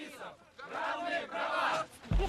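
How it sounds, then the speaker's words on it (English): Hostile crowd at a gay rights demonstration in Moscow, a dense mass of shouting voices swelling and jeering continuously at close range, ending in a sudden low thump. "A homophobic crowd reacts with violence."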